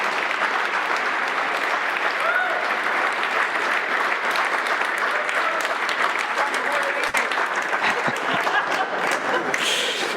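An audience at a whisky masterclass breaks into sustained, dense applause, a steady wash of many hands clapping throughout with a few faint voices beneath.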